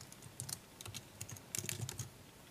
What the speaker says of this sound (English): I'm going to type in rect button.